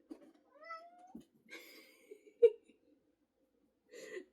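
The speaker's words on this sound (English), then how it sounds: "I'll try not to be distracted by my cat" A cat meows indoors in a few separate bursts: a rising, drawn-out meow, then a couple of shorter throaty calls and a last brief meow, all close and moderately loud with quiet gaps between.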